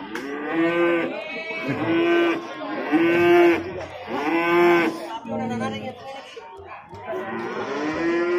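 Etawa goats and kids calling, repeated loud bleats and cries in close succession, near and steady across the clip with no talk.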